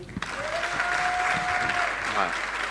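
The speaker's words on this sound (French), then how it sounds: "est-ce que le public peut applaudir pour vous-même?" Audience applause at a French-language show event in Congo, a steady wash of clapping throughout with a brief voice and a sustained tone near the start.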